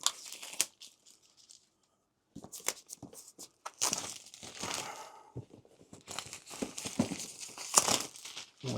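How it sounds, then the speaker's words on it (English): Up close, a foil wrapper crinkles and tears as it is peeled off a new Keychron K10 HE wireless keyboard, with bursts of loud rustling broken by short pauses. "there's the foil, the wrapper off"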